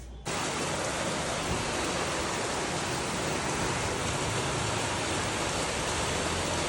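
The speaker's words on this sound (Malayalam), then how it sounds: "ആന്ധ്രയിലുള്ള മഴയാണ് നമ്മൾ പുട്ടപ്പുറത്തിൽ വന്നപ്പോൾ അന്ന് രാത്രി പെയ്ത മഴയാണ് കാണുന്നത് നല്ല മഴയാണ്" Heavy rain pours down at night in a steady, dense roar that stays constant throughout, with no voices.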